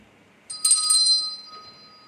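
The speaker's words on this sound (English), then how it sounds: "If you ring the service bell," A service bell rings once with a bright metallic ding whose tone lingers and fades over about a second, set against a quiet room.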